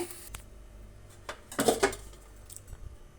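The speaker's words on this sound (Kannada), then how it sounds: "ಈಗ ಇದನ್ನು ಮತ್ತೊಂದು ಬೌಲ್ಗೆ ತಕ್ಕೊಳ್ತೀನಿ" Fried bitter gourd is scooped from a pan into a bowl: quiet metal spoon scrapes and clinks, with a brief cluster of louder scraping in the middle, close by.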